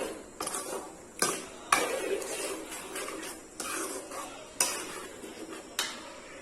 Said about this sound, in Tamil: வேக வச்ச சவுசவை போட்டுக்கலாம் போட்டுட்டு நல்லா மிக்ஸ் பண்ணி விட்டுறலாம்